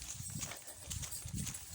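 Horse hooves clip-clop along a bitter, rough path in a steady, close rhythm of repeated knocking strikes.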